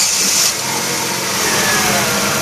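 A 2011 Chevrolet Aveo with a faulty camshaft position sensor, its engine cranking and starting as a steady loud close mechanical drone with no voices.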